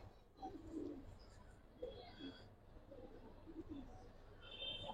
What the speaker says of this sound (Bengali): 3 পরে কবুতর ডাকছে,